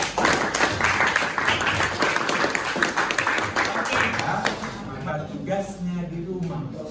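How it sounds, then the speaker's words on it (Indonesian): Students in a classroom clap together in a loud burst of applause that runs for several seconds and then fades, with a voice talking as it dies down. "Tepuk tangan untuk kita."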